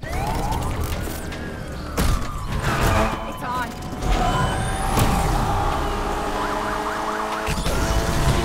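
Police patrol car siren in the NFS Unbound racing game, wailing in rising and falling sweeps over engine noise and crashes, with a voice talking over it.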